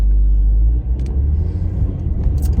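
A car drives along a quiet side street during lockdown, heard from inside as a loud, steady low rumble of road and engine noise with no talking.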